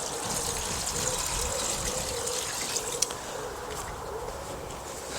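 Diluted comfrey liquid feed, one part to ten parts water, poured onto plants in a no-dig vegetable garden, giving a steady close trickle and splash of liquid with no talking.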